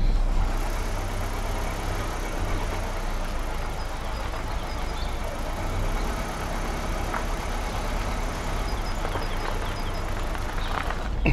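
A car drives slowly along a rough, bumpy road toward a service station, giving a steady low engine drone with continuous rumbling and rattling from the suspension, heard from inside the cabin without talking.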